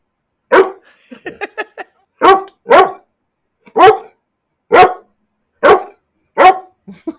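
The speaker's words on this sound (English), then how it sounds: "She's got much meaner barks than that." A dog gives a run of sharp, loud barks close by, seven or eight evenly spaced yaps with a short cluster of quicker yips near the start, set against silence.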